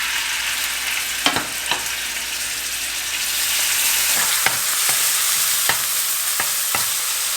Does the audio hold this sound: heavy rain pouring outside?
no